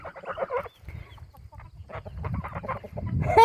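Chickens cluck in short bursts close by, a busy ranch flock murmuring and calling, with rustling and a brief sharper squawk at the end.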